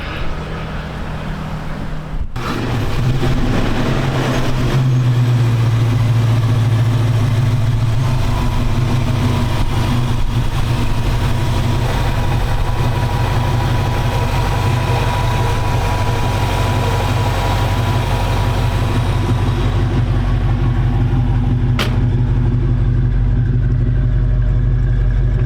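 A 1968 Ford Mustang coupe's 302 four-barrel V8 cranks and catches after a couple of seconds, then settles into a loud, steady, rumbling idle heard up close for the rest of the stretch.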